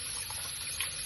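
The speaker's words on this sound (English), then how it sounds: "Use 1 2 teaspoons of vinegar and wash off the meat properly." Lamb neck meat rinsed with water and vinegar, a soft continuous trickle and splash of running water at close range, low and steady with no talk.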